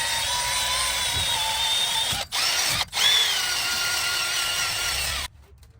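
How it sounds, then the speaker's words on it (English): A power drill spins a wire wheel against the gasket surface of a Ram 1500 differential cover, a steady close whirring grind with two brief dips, then cutting off near the end. "Just clean it with the wire wheel."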